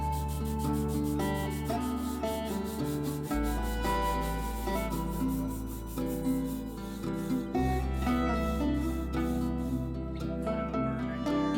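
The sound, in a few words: sanding wood with sandpaper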